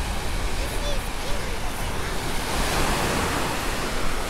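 Steady roar of sea surf washing onto a beach, a dense continuous wash with slight swells and some wind buffeting the microphone, with no clear voices.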